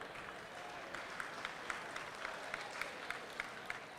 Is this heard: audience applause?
yes